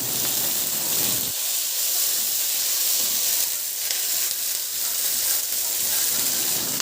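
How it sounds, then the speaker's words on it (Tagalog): Onion and tomato sauté in a pan after garlic, a continuous close steamy hiss and sizzle running throughout with a faint low rumble early on. "Igisa ko na rin yung sibuyas. Ilagay ko na rin yung kamatis."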